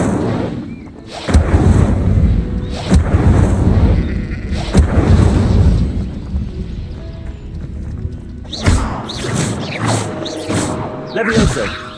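Incendio fire spells are cast in Hogwarts Legacy during combat, with several heavy whooshing blasts and thuds repeating over twelve seconds amid game noise and a talking voice.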